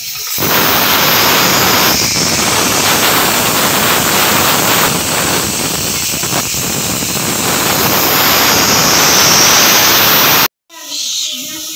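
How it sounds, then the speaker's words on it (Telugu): Pressure cooker whistling loudly and steadily while mutton cooks, a continuous hissing roar close by for about ten seconds, then cutting off abruptly before a quieter tail. "విజిల్ కుక్కర్ విజిల్ వస్తుంది"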